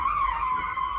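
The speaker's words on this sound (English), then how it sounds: "it's okay to pull the e-brake and stop here." Car tires skid steadily through a handbrake drift on a track, one continuous loud squeal lasting the whole moment with engine rumble underneath and no voices.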